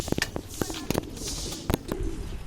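Pigeons coo outdoors close by, repeated soft throaty coos mixed with wing flaps and sharp clicks and taps.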